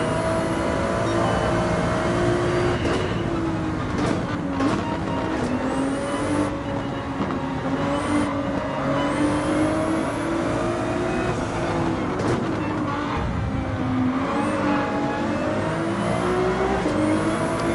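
A Ferrari 296 race car in Gran Turismo 7 on Highway 1 gives a steady, loud engine drone that rises and falls with gear changes, with occasional tire squeal and the sound of other cars passing through the pack.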